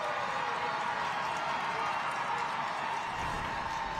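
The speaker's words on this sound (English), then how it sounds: "You can hear the crowd here at Manheim, the home crowd" Home crowd at a Friday night high school football game at Manheim, Manheim Central against Dallastown, a steady loud rumble of cheering and clapping filling the stands throughout, with no clear break.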